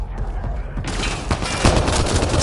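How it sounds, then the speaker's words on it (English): Gunfire in the video game Mass Effect: Andromeda, a loud sustained fusillade of rapid shots and bursts that grows denser partway through, with no talking. "Incoming fire!"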